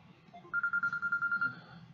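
A phone rings in a rapid, even electronic trill of about a dozen pulses lasting roughly a second. It is moderately loud and close, over a quiet low hum of room background.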